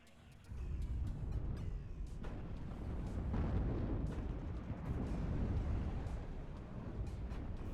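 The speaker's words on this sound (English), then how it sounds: "Mortars being used by both sides." Mortar and artillery fire in the WARNO real-time strategy game, a continuous rumble of overlapping booming impacts and blasts at steady loudness, with no talk over it.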